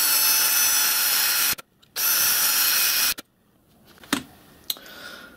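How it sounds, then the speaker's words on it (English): A power drill whines loudly in two sustained runs through a metal e-bike pedal assist sensor magnet ring, with a short break between, followed by a few clicks and light knocks of handling. "I'm just going to drill those now straight through the magnet ring for the rivets."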